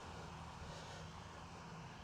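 A Potensic Atom 2 drone hovering overhead outdoors, a steady droning motor hum with an even, unbroken tone and no voices over it.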